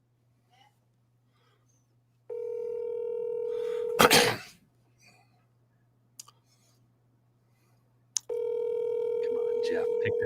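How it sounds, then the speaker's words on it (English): A telephone line gives long, steady ringback tones, broken by a sharp burst of noise and a couple of clicks before the tone resumes, with brief speech. "Pick that phone up."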